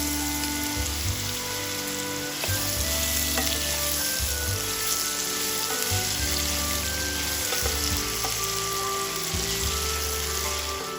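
Potato pieces coated in turmeric and salt fry in hot oil, giving a steady, close sizzle with low rumbling bursts and occasional stirring clinks throughout.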